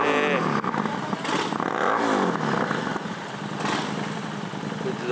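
A Harley-Davidson motorcycle with a Vance & Hines exhaust revs loudly up close, its engine note rising and falling in repeated throttle blips, with voices faintly in the background.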